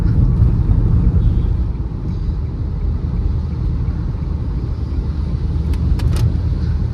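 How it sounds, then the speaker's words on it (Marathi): A car rolls slowly through a highway tunnel on NH 66 on the Mumbai to Konkan route, with hazard lights on. A steady, close, enclosed low rumble of engine and road noise continues throughout without voices. "आपल्याला थोडा व्हिडिओ काढायचा म्हणून मी गाडी स्लोच चालवतोय"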